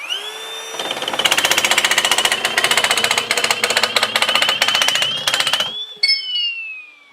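A Milwaukee M18 Fuel cordless nibbler chews through 10 gauge stainless steel with a rapid, loud, metallic chattering punch rhythm over the whining motor, which spins up before the cut and winds down alone afterward.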